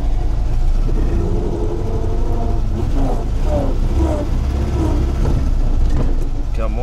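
A GAZ 21 car drives along on a test ride, its engine humming and revving steadily up through the gears, with someone talking over the continuous engine noise.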